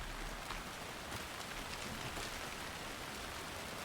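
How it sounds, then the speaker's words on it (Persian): Rain in the video game Alan Wake 2, a dense, steady hiss of rainfall pattering on surfaces, constant and loud throughout with no other sounds. "بارونی گرفت."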